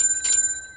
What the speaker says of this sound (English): My treehouse has got a doorbell.